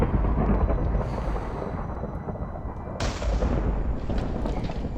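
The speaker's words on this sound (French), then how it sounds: "C'est pas un orage naturel, ça." Loud, continuous rumbling thunder from a storm in Minecraft, with heavy booming crashes that swell and roll on without pause and a sharp new crack about midway.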